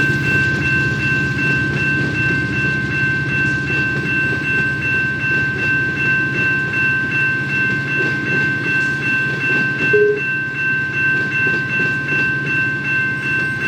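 A long Amtrak train in a train simulator game, Run 8, runs with a steady engine drone and rhythmic rail clatter, constant and fairly loud, with a short tonal blip partway through.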